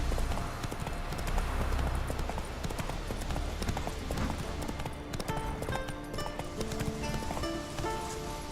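Horse hooves clip-clop steadily in a fantasy game, a dense, continuous rhythm of close thuds over a busy background that runs the whole stretch.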